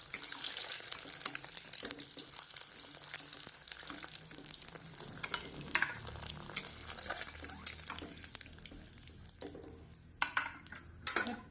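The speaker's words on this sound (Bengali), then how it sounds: "হয়ে গেছে আমার ডিমটা ভাজা" An egg fries in oil in a pan, with a steady close sizzle and crackle throughout and occasional clinks of a utensil against the pan, louder near the end.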